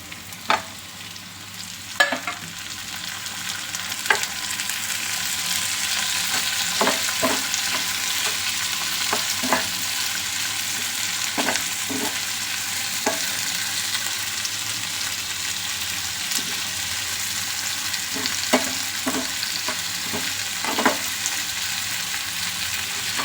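Tomatoes tipped into a pan of sizzling onions for an okra stir fry: a steady, bright frying hiss runs throughout, broken by repeated spatula scrapes and taps against the pan, close up with no talking.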